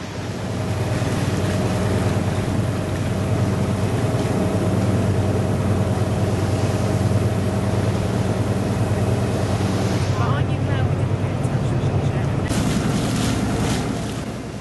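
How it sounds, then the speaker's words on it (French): Steady rumble of a boat engine with wind and water wash on a quarter-hour sea crossing to Île de Barz, Finistère, constant and close, continuing throughout the crossing. "1/4 d'heure de traversée en bateau pour un dépaysement complet."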